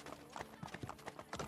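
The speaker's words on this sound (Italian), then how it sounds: "Cavallino." Horse hooves clip-clop in a steady trotting rhythm in Assassin's Creed Brotherhood, moderately close and soft beneath a faint game ambience.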